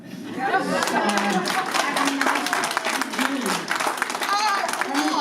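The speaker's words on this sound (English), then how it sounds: "if you clap loud enough, we might have an encore" A concert audience at Covenant House claps steadily for an encore, dense sustained applause with some voices and cheers mixed in throughout.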